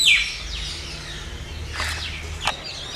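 A crow calls near a temple on a morning outdoors. A few sharp, loud caws come in short bursts, with quieter bird chirps around them over a low ambient background.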